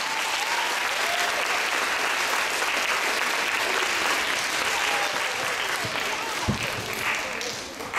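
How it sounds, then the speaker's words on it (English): Sustained applause from a jazz audience, steady clapping filling the whole stretch with a brief louder clap near the end. "Very, very wonderful round of applause."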